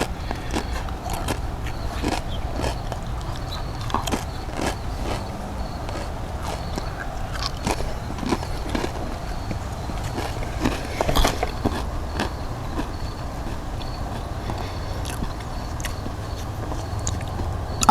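Thin restaurant nacho corn chips topped with salsa crunch between the teeth in repeated close bites and steady chewing, crisp cracks scattered over a continuous gritty munch with no talk.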